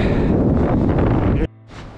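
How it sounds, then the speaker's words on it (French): Loud gusting wind in mountain woods in the Vercors roars and buffets against the microphone, then cuts off abruptly near the end, leaving a quieter rustle. "le bruit du vent ça fait du bien hein. Ça siffle dans les oreilles."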